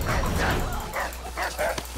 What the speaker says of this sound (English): Go away, dog.